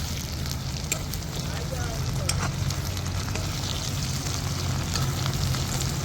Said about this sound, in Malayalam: അപ്പൊ തക്കാളി അരിഞ്ഞത് ഇടാൻ പോവുകയാണ്.